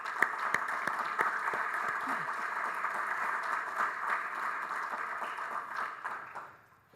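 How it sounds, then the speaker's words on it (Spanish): An audience claps for the presenters at an event, a steady round of applause with a few sharp individual claps, gradually dying away at the end. "Don Jorge, don Elías, un aplauso para ellos."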